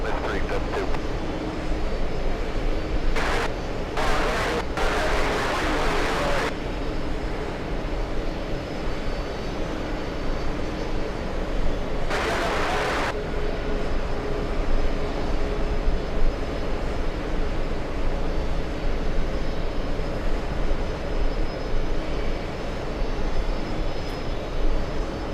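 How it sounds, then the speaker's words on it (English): A Boeing 777 airliner on final approach to JFK gives a steady, broad engine roar heard from a distance, holding even for the whole stretch, with a person talking over it and a few brief sharp bursts of noise. "We're talking about American 199 on final approach for the parallel runway."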